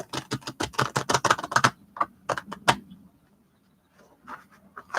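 A deck of tarot cards is shuffled by hand, giving quick, close clusters of crisp riffling clicks, then a few separate snaps before it falls nearly silent.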